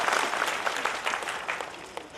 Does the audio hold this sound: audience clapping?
yes